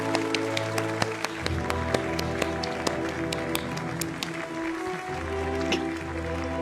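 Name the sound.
clapping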